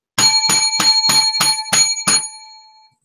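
A small bell is struck seven times in an even, quick rhythm, each ring bright and ringing, the last one left to decay into silence, with no talking over it.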